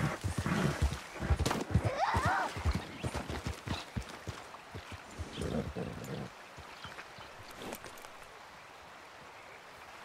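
A horse in the video game Red Dead Redemption, with clip-clopping hooves and a brief whinny early on that thin out and fade to quieter scattered steps toward the end, with some talking mixed in.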